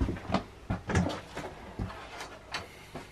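A series of sharp knocks and thuds from windows being shut and latched in a house, several uneven bangs spread over a few seconds, near and fairly loud.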